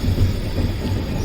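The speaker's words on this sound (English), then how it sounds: "So the train has started from Kannur." Passenger train running out of Kannur, Kerala, a steady low rumble of rolling wagons with faint wheel clatter, heard close from on board with no talk.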